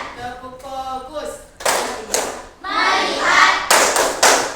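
Children clap out a rhythmic Indonesian classroom clapping game, several bursts of group claps alternating with chanted voices, loud and close in a classroom setting.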